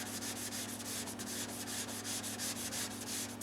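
Steady close-up sanding of a shellac finish on a Guild D25 acoustic guitar, a continuous dry abrasive rubbing with a quick back-and-forth rhythm, with no one talking over it.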